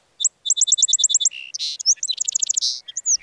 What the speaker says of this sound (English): the ragged songs and nonsense syllables of young birds